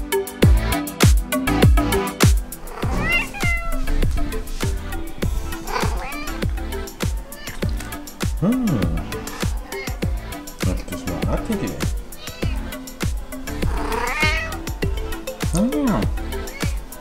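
A cat meows a few times indoors, the drawn-out cries rising and falling among ongoing talk and background noise.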